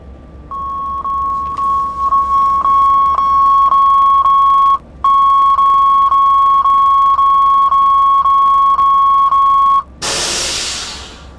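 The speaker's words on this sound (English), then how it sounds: "allow the vigilance to trip and check that the brake pipe pressure falls to 0" A locomotive vigilance alarm goes off in the cab once its timing runs out, sounding as a loud, steady, high electronic tone pulsing at a regular rate. It cuts out briefly midway, then a burst of hissing air follows at the end.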